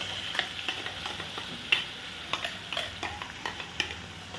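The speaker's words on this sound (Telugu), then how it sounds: "ఇప్పుడు తాలింపు వేసుకోవాలి తాలింపులో మనం పప్పు రంగు మొత్తం వేసుకోవాలి" Lentils crackle in hot tempering oil for a green chilli and raw mango chutney, a quiet steady sizzle dotted with small regular pops.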